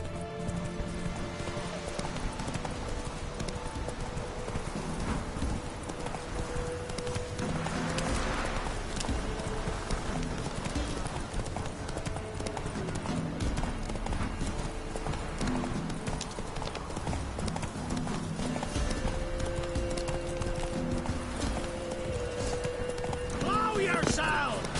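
Roach, a horse in The Witcher 3: Wild Hunt, gallops with steady, fast clip-clopping hooves throughout, a brief whinny, combat noise and shouting voices layered over the continuous run.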